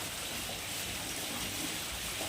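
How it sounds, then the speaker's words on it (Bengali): Rain falling outside a village home, a soft, steady wash of patter that stays even and fairly faint throughout with no talking. "বৃষ্টি হচ্ছে।"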